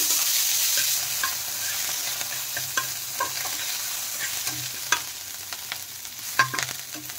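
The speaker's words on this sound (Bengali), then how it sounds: "দিয়ে এখন মশলাগুলো একটু ভেজে নেব।" Spices, chopped chilli and crushed ginger fry in oil in a pan over a soft continuous sizzle, with scattered spoon scrapes and taps.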